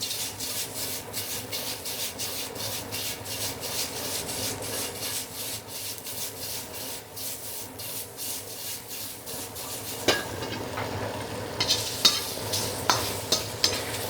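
Pad see ew noodles and shrimp tossed in a hot pan give a steady, close sizzle with rhythmic scraping and tossing strokes, plus a few sharper clatters near the end; no one speaks.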